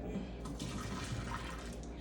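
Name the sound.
water poured out of a cup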